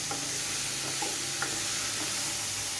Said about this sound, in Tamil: ஒரு 2 மினிட்ஸ் நல்லா காலிஃப்ளவரை ஃப்ரை பண்ணி எடுத்துக்கலாம்.